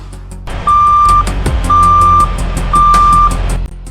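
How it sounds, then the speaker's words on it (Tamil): Three long, evenly spaced electronic beeps from an alarm inside a parked lorry's cabin sound over a low, steady engine rumble, loud and close. "அந்த லாரிக்குள் ஒரு அலாரம் சத்தம் கேட்கிறது"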